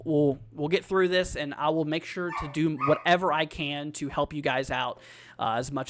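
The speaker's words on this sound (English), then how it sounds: "Sorry about the dog in the background" A dog barks and yips in the background while someone talks steadily in the foreground, the barking partly buried under his voice.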